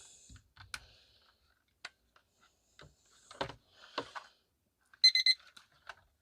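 Short electronic beeps from a weather station alarm clock, a tight cluster near the end among scattered button clicks and handling taps, close and fairly quiet.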